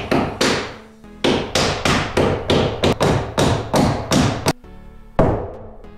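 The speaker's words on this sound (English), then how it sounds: "Put a shim right here." A hammer tapping a wooden shim into place under a load-bearing shed beam: a run of about a dozen sharp, fairly loud knocks in quick, slightly uneven rhythm, a short pause, then one final blow.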